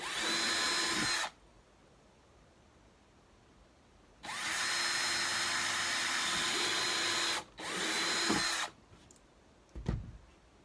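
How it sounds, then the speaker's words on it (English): A power drill bores through metal in three loud, sustained bursts of whining, grinding buzz, separated by short pauses, followed by a few brief knocks and clunks at the end. "I should be doing that when I'm drilling through the metal, let the drill do the work."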